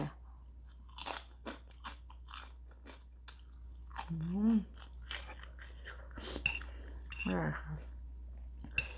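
Spicy flavored pork rinds bitten and chewed close up, a series of sharp, loud crunches spaced irregularly across the clip, with brief quiet speech between bites.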